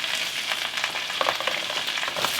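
Baby spinach hitting a hot pan while making a healthy eggs benedict, a steady crackling sizzle with faint stirring scrapes, close and fairly quiet, with no talking.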